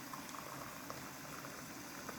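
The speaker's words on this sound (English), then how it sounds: "when you see that your veggies are already boiling with your sausages" Vegetables and sausages boiling together in a pot of water, a continuous bubbling hiss with soft pops, close and steady, no voices.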